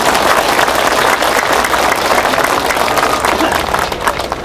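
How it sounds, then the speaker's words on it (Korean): An audience at a North Korean human rights rally in Seoul claps hard and steadily, a dense, loud wave of applause that fills the hall and keeps going without a pause. "건강을 위해서 박수 한번 힘차게 보냅시다"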